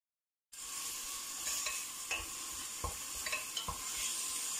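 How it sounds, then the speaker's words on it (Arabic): Chicken and onion sizzle in a pan for a cabbage soup, a steady close hiss broken by several sharp scrapes and knocks of a stirring utensil. "بعد ما تشحرنا شويه الدجاج مع البصله"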